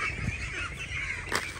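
Ducks gather to feed on black soldier fly larvae scattered on the ground, giving off steady close honking and quacking calls with a louder burst near the end and no talk.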